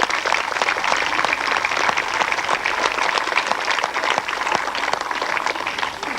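Sustained applause from a school assembly audience for a teacher, steady dense clapping throughout with no pauses, filling the hall at moderate loudness.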